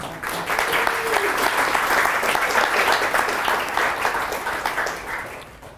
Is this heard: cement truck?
no